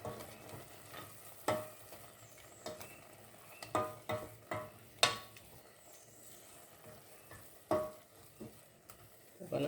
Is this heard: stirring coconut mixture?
yes